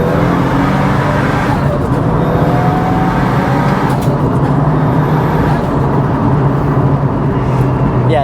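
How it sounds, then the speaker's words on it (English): Mitsubishi Evo 9 with a turbocharged engine accelerating hard in third gear, heard from inside: a loud, continuous engine roar with rising whine, sustained throughout with no speech. "The turbo noise, I don't know if this thing has a screamer pipe or not, but it's got to, the way it sounds."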